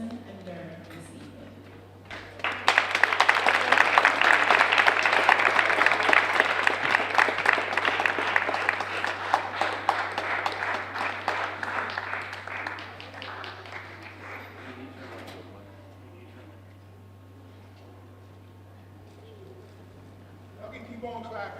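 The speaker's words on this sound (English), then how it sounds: "Keep on clapping." A school arts audience bursts into loud, sustained applause and clapping welcoming guests to the stage, dense and steady for about twelve seconds before fading, with a voice speaking over the tail end.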